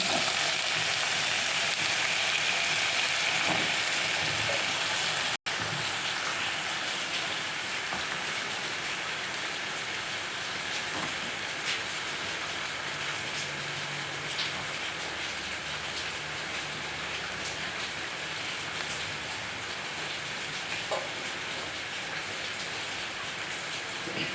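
Breadfruit and onion pieces frying in hot oil after mustard seeds have spluttered. A steady, rain-like sizzle crackles continuously at close range, with one sharp click early on.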